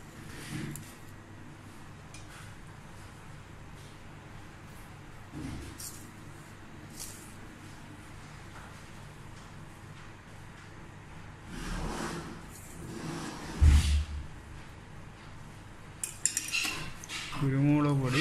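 A spoon scrapes and clinks against a pan as pepper powder is stirred into a Kerala-style beef fry, with steady metallic scraping, louder clanks near the end, and some background noise.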